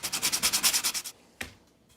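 Coarse-grit sandpaper worked over a wooden cutting board, about a dozen quick rhythmic rasping strokes for a second, then a pause and a single short scuff.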